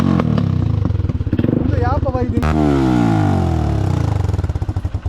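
A modified motorcycle engine revs and idles up close, its loud rumbling pulses rising and falling with sharp throttle blips, while people talk over it.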